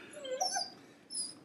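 A young farm puppy whimpers in a few thin, high, wavering whines, close by and fairly quiet, with no talking over it.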